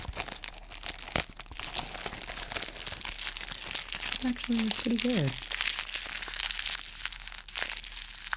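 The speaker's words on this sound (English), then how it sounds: "I know this can be a divisive sound as well, the plastic crinkling" Plastic wrapping crinkles and rustles steadily during an ASMR plushie unboxing with sticky tape, close and continuous, while a soft voice talks over it.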